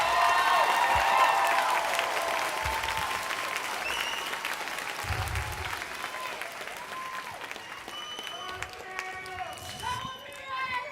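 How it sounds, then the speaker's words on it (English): Graduation audience at the John F. Kennedy class of 2023 ceremony applauding steadily, a dense wash of clapping from a large crowd with people talking over it throughout. "Let's give them a round of applause again, please."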